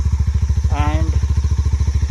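A Mahindra Mojo 300 motorcycle with its dB killer removed idles loudly nearby, its exhaust thumping in a steady, rapid pulse throughout, while a voice briefly speaks over it partway through.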